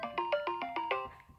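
A phone call ringtone plays a quick run of six evenly spaced electronic tones, then trails off; faint and alone, with no talking.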